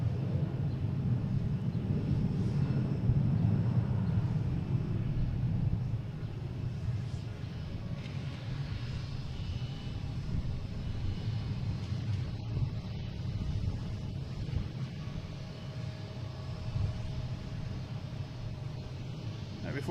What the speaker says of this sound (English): next taking off is United Airlines heading to Dulles, E175.